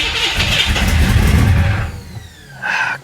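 A 1966 Chevy Impala SS engine, just fitted with an entirely new fuel system after flood damage, cranks and catches into a loud, rough run, then fades and stumbles without settling into an idle, followed by a brief mechanical whir.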